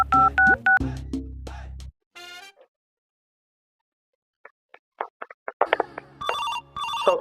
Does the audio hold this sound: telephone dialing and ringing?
yes